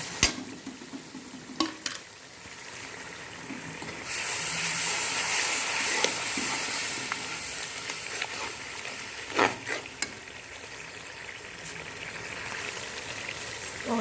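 Garlic and spices (salt, red chili, cumin, black pepper, turmeric) with yogurt frying and being stirred in a pan for chicken pulao, a steady loud sizzle with occasional scraping clinks, no talk.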